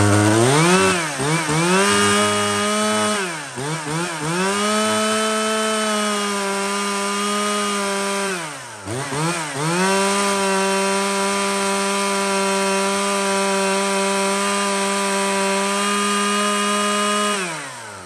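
A used Shindaiwa chainsaw engine revs up and down a few times, then holds a loud, steady buzzing idle-to-high drone up close, with no talking.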